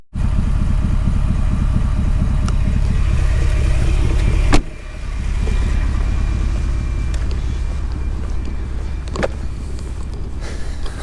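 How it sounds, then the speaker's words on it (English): A Coyote V8 Ford F150 short bed standard cab with an MBRP side exit race exhaust rumbles steadily with a deep low drone, one sharp clunk midway, then keeps running at a constant level, alone without talk. "I'm going to have Isaac drive around the block, and we'll see what it sounds like."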